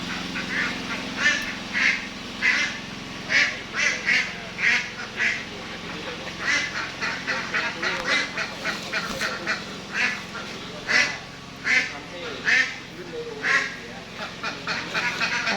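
Many laying ducks on an egg farm in Thailand quack repeatedly in a steady, overlapping chorus, close by and fairly loud, with a low background hum throughout.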